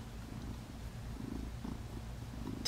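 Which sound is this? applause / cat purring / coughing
cat purring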